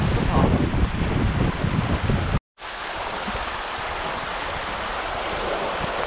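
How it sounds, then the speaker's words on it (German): Steady rushing water and wind noise as river water streams into a canoe on the Mesta-Nestos river, broken by a sudden brief silence, then continuing as a softer, even wash. "von links strömt Wasser ein"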